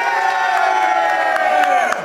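A crowd at a women's rap battle yelling and cheering loudly for a rapper, a dense sustained roar of shouts and whoops, close and continuous.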